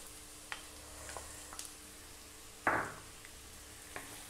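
Hotdog sautéing in a pan with garlic and onion: a quiet, steady sizzle with a few small clicks, broken by one louder clatter of stirring near the middle.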